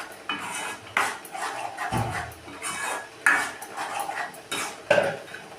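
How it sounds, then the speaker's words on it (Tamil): A spoon scrapes and clinks around a metal pan in repeated stirring strokes as spicy chutney (kara chutney) boils, close up, with no talking. "நல்லா கிண்டி விடுவோம்"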